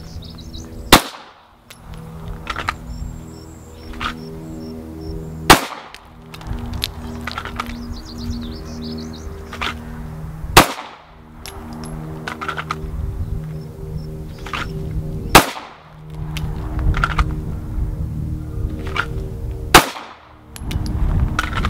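Pistol shots ring out during a draw-and-shoot wake-up drill: five loud, sharp single reports spaced about five seconds apart, with softer handling noise and faint birdsong between them.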